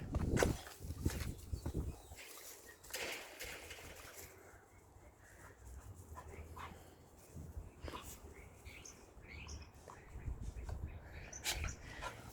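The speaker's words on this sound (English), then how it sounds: "Where did this dog come from?" A dog moving about nearby with light footsteps and scrabbling, and a faint whimpering, as scattered soft sounds over a quiet outdoor background.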